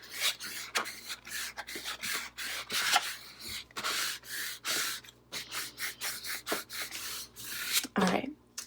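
A scraper rubs stencil film down onto a surface in quick, close, rasping strokes, repeated in uneven bursts with short pauses between.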